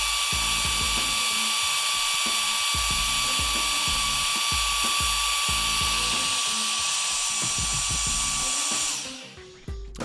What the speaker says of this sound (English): So starting with the Kica Jetfan, we're going to go ahead and we're going to kick it on, and on full speed